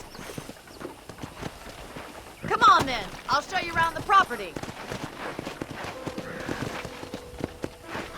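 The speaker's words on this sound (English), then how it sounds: "let's see if you can still ride a horse" Steady clip-clop of horse hooves walking in a rhythmic pattern in Red Dead Redemption on Xbox One X while a person speaks over it.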